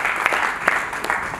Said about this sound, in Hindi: मैं चाहता हूं कि आप एक बार जोरदार तालियों से उनका स्वागत करें।